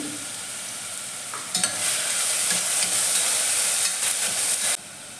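Onions dropped into hot oil in a pan for mint rice burst into a loud, steady frying sizzle that starts abruptly and cuts off sharply near the end, heard up close with no talk.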